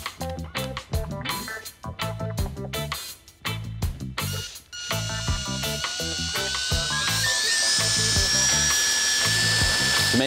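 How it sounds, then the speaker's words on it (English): A drill boring mirror holes in a Datsun 280Z car fender, first a pilot hole and then a step drill bit. Close, rapid chattering bursts with brief pauses give way to a sustained, rising metallic whine. "I'll drill a pilot hole and then use a step drill bit to get the final size."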